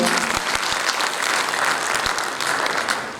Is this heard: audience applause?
yes